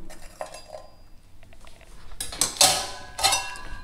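Hot charcoal is set into a steel bowl inside a kadai, producing faint scrapes first and then a few loud metallic clanks and clinks near the end, close by.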